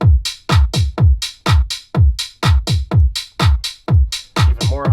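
An electronic club drum loop in a DJ production, with crisp hi-hat ticks added over a pounding kick drum: a fast, steady stream of loud, close hits and no voices.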